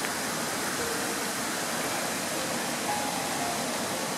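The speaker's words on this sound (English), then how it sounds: "And you can hear the falls on this big rain day" Falls Creek's waterfalls on a heavy rain day give off a steady, broad roar of rushing water, even and constant throughout without a break, with no voices heard.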